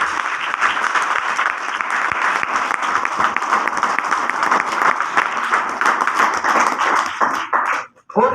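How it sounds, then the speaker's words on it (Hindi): Sustained, dense audience applause fills a seminar hall for several seconds, loud and steady, then cuts off abruptly near the end. "एक बार जबरदस्त ताली बजाइए"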